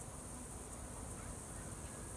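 Swarm of honey bees buzzing all around, a faint continuous hum in the background with no break.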